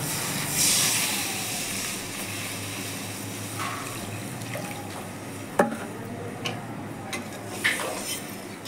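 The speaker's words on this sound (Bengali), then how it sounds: "এখন জল দিয়ে দিচ্ছি।" Water is poured into a hot pan of fried spices for a potato, pointed gourd and soya chunk curry, giving a soft continuous hiss and steam with a few small clinks, fairly quiet and without talk.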